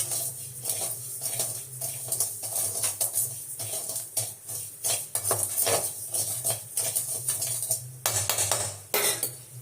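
A utensil scrapes and clinks against a pan in steady stirring strokes over a faint sizzle, close by and continuous.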